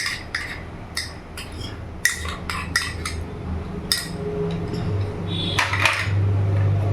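A metal spoon clinks and scrapes against a bowl of chicken while ginger, garlic, chili and pepper paste goes in, giving sharp, close taps in an irregular series, then softer mixing sounds and a low hum, with no speech.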